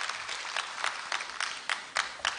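Audience applause at a university graduation ceremony in a large hall, a soft, sustained patter of many hands with a few louder clap bursts, heard at a distance without talk.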